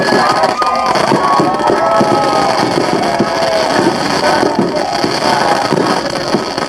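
Fireworks go off outside in a dense, continuous crackling and popping that stays loud and busy the whole time, with faint crowd noise mixed underneath.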